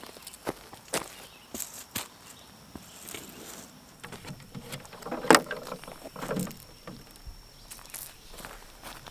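Footsteps crunch irregularly along a homestead garden path in spring, soft and fairly close, with a few sharper scuffs and quiet outdoor background.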